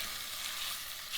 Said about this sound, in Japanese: 温めた鍋にオリーブオイルを入れて 肉を焼いていきます。